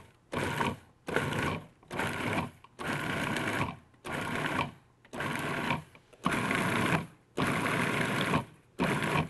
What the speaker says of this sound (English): We want to pulse it in until the butter is just about pea size and equally distributed amongst the